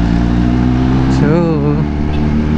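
Kawasaki ZH2 motorcycle engine revving during a maintenance visit, a steady loud mid-pitched drone with a rising and falling rev swell in the middle, while a person talks over it.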